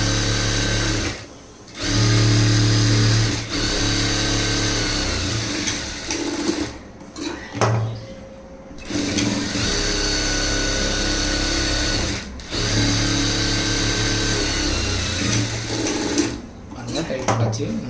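A sewing machine runs steadily, stitching a double seam alongside an existing seam on a lined blouse. It sounds like a loud, continuous mechanical whir, broken by a few brief pauses.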